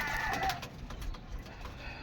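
Gamecocks kept for derby fighting make short clucks and scuffling sounds in a yard, with soft intermittent bird noise over a steady low background and no speech.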